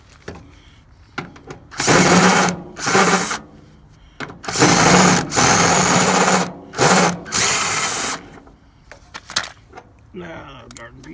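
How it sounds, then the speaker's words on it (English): An electric drill whirs loudly in several bursts of a second or two each, with pauses between, and brief clicks and handling noises in the gaps. "I'd rather use the drill"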